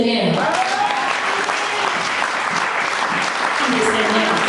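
A church congregation at a women's convention claps and cheers in praise, a continuous loud wash of applause with voices shouting over it.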